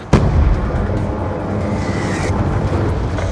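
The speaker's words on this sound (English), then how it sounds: "Friendly Hellstorm missile inbound." A Hellstorm missile strike from Call of Duty: Black Ops 2 on the Hijacked map, heard as a sudden loud boom followed by a sustained heavy rumble of blast and battlefield noise.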